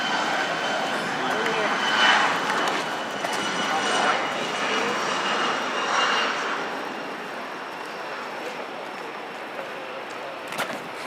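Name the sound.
airplane taking off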